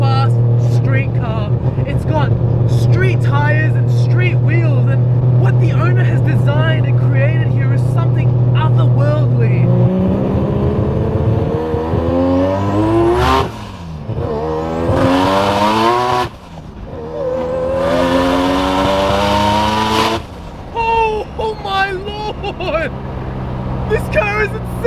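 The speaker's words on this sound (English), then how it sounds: "a synonymous rotary noise that you can hear a mile away" The loud 1000 hp turbocharged 20B three-rotor engine of a Mazda Eunos Cosmo drones steadily, then revs hard in repeated rising and falling sweeps, with someone talking over it throughout.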